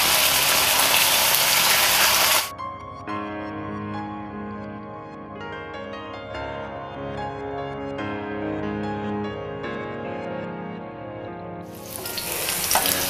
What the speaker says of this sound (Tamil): இப்போ நம்ம சிக்கன் நல்லா ஃப்ரை ஆகிடுச்சு